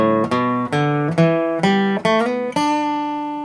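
A short guitar lick: six quick picked notes in a bouncy rhythm, ending on a ringing held note that slowly fades.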